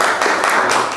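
A studio audience claps together in a dense, continuous burst of applause, loud and close, lasting about a second.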